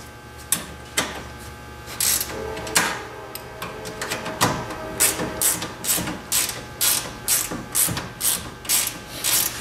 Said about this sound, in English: tighten the nuts in here right where it is